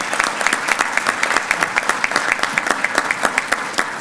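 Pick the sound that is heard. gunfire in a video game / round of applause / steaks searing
round of applause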